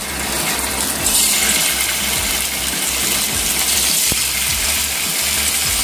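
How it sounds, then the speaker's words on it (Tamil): Nethili anchovies frying in hot oil in a pan over a medium flame, a loud, continuous crackling sizzle that stays steady throughout with no talk. "இப்போது நெத்திலி ஒன்று ஒன்றா போட்டு ஃப்ரை பண்ணிக்கலாம்."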